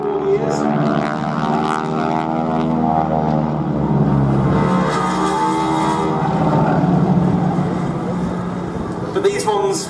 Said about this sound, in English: with a big 450 horsepower Pratt & Whitney radial engine up front